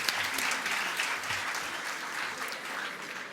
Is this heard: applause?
yes